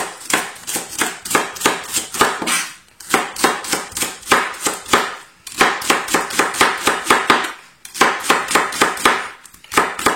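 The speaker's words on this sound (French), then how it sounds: "Je prends mon couteau, je mets bien mes doigts au bout, je fais des fines lamelles" A knife chopping leeks into fine strips on a cutting board, rapid even bursts of sharp crisp taps close up, pausing briefly between runs of cuts, with no voices.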